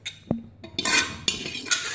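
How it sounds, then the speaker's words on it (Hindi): Mutton tripe curry being scooped into a large wok, with metal spoon clinks and scrapes against the pan in several sharp bursts and wet slopping between them, close and clear with no talk. "अब ये ओजरी के सालन को मैं बड़े बर्तन यानी कढ़ाई में शिफ्ट करने लगा हूँ"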